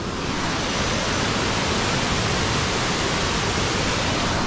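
A waterfall in Nepal pours down over carved rock, producing a dense, steady roar of rushing water that is loud and close and runs unbroken throughout.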